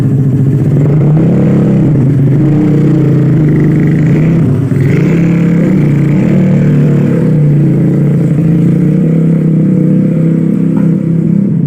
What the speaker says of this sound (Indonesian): sedikit terganggu oleh suara knalpot motor yang sangat bising